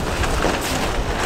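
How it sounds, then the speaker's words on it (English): Heavy rain pours steadily onto a rooftop, a dense, loud, continuous hiss with no breaks or voices over it. "Oh, it's really starting to come down hard."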